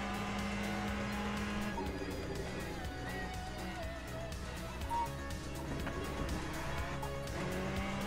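Ferrari race car in the Le Mans Ultimate racing game, its engine a loud continuous drone with shifting pitch and occasional tire squeal as the cars run close together.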